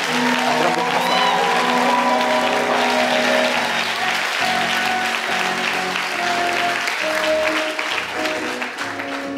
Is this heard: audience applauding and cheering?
yes